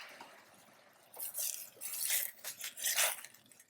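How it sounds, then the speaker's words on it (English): Red wine poured into a hot pan to deglaze it for tomato sauce, a quiet burst of sizzling and bubbling hiss that swells and fades in a few uneven surges. "We're going to deglaze the pan."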